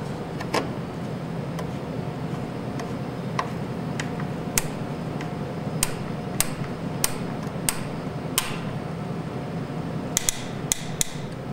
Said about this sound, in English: Now the screw should automatically just go all the way through.